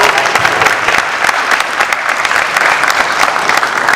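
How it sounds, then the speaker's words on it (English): A university audience at a hands-only CPR event bursts into loud, dense, sustained applause, the many close claps running evenly throughout with no voices breaking through. "So please give him a round of applause."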